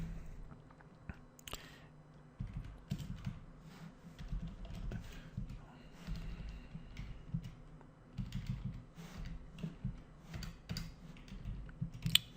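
Quiet typing on a computer keyboard, soft irregular clicks of keys pressed in short runs over a low background hum.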